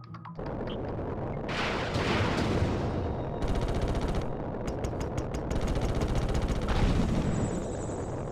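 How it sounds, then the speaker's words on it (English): Heavy turret gunfire in the Ratchet & Clank video game, with loud rapid bursts and repeated volleys of shots that keep going without a break, with no talking over them. "Gunfire from those turrets is deadly."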